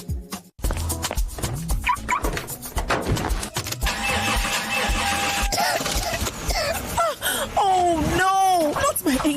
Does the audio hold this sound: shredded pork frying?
no